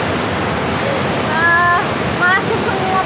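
Rough surf on a south-coast beach near Yogyakarta, where the waves run high, gives a constant loud wash of breaking water with faint whistle-like tones above it.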